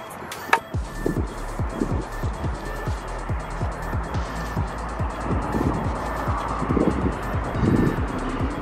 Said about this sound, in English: now that we have turned on the truck and let it warm down just a little bit